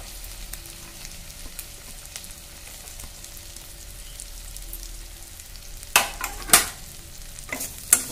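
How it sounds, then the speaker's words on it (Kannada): Garlic, fresh ginger, onion and curry leaves frying in a pan for dal khichdi: a soft, low sizzle that runs throughout, then a few sharp, loud stirring scrapes toward the end. "ಬೆಳ್ಳುಳ್ಳಿ ಮತ್ತು ಹಸಿ ಶುಂಠಿ ಇದನ್ನು ಪೀಸ್ ಈರುಳ್ಳಿ ಹಾಕ್ತೇನೆ"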